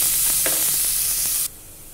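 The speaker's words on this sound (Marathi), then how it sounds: "कांदा लाल होईस्तोवर आपल्याला परतून घ्यायचा आहे, चांगला शिजू द्यायचा आहे।" Chopped onions fry in a pan for a bitter gourd curry, giving a steady, close sizzle with small crackles that stops abruptly about three-quarters of the way through.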